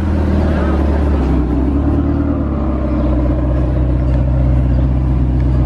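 Ferrari engine rumbling steadily and loudly, a deep continuous drone with a faint rise in revs, heard close by with voices mixed in.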